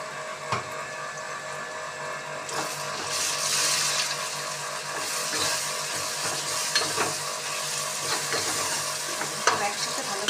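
Green chillies sizzle steadily in hot oil in a pan for an egg curry, with the sizzle growing louder midway and scraping, clinking stirs of a spatula repeating throughout, close and without talk.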